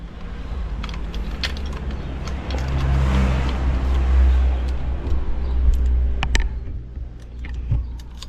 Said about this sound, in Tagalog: Epi, painitan na natin yung makina ni Mia nang makalabas na tayo.